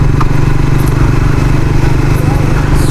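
Suzuki GSXR 150 motorcycle engine running while riding, a loud continuous low hum with steady firing pulses and wind rush, no break in the drone.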